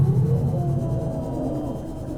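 A sea dragon leviathan in Subnautica's deep lava zone gives a low, drawn-out roar that rumbles steadily and fairly loudly throughout, with no talk.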